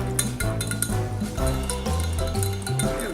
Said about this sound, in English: And then we whisk this.